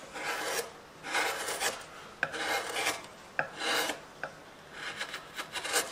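A wood-carving gouge from a carving set scrapes and cuts through wood in repeated rasping strokes, close and fairly quiet, with a few sharper clicks between strokes.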